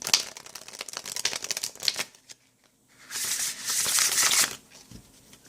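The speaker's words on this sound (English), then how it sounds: "It's shuffling very nice." A deck of playing cards riffle shuffled on a table, quick fluttering bursts of card riffling close up, one pause of near silence, then another dense riffle.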